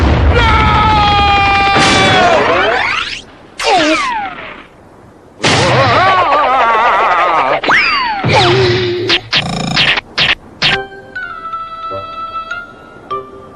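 Cartoon ship cannons fire amid a cartoon sea battle: sliding whistles and springy boings give way to a quick run of sharp bursts and booms, with a short tonal chime at the end.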